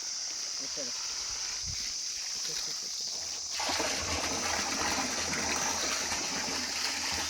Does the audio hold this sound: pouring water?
yes